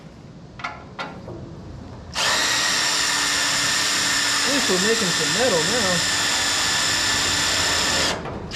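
A power drill bores into the steel frame of a 1955 Chevy, whining loudly and steadily for about six seconds with a slightly wavering pitch, after brief talk beforehand.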